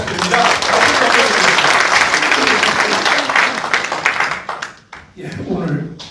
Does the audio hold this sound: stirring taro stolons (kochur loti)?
no